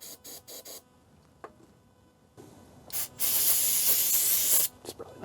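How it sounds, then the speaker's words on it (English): Throttle body cleaner sprayed into a Jeep TJ engine: several short aerosol spurts, then a long, loud, close hissing blast and a few brief final spurts, with no voices. "I'm going to clean this out with some throttle body cleaner."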